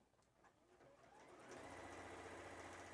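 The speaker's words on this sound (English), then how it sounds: "say I put my presser foot down and I'm sewing" A Juki HZL-F600 sewing machine stitching fabric with the presser foot down, its motor whirring in a steady, close hum that starts softer and builds to a loud, even run after a second and a half.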